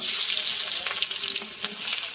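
Chopped onion dropped into hot oil with cumin and curry leaves, a bright continuous sizzle with a few stirring scrapes, fairly close and steady.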